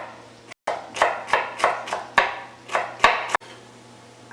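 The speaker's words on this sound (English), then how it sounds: "we're going to chop it in a nice small" Celery sticks are chopped into small pieces on a cutting board, about eight crisp knife strikes in a fairly even rhythm, close up and clear with no talking.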